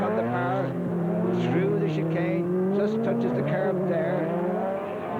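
A four-wheel drive Division 2 race car at Mondello Park accelerates out of a chicane. Its loud engine note holds close and steady, rising and falling in pitch as the revs climb through the gears.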